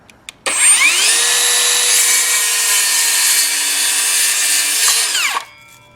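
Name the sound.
SCANS 20V cordless mini circular saw cutting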